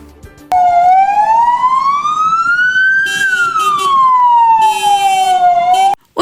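A police car siren wails loud and close as it escorts a women's car rally setting off with flags in Oleksandriia. A steady rising and falling tone runs for about five seconds, then cuts off abruptly.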